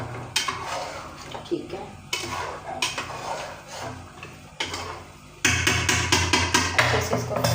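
Spices with salt, chilli, turmeric and cumin being stirred in a cooking pot, with repeated close scraping and clinking of a utensil against the metal, growing louder and busier toward the end, and a brief spoken remark.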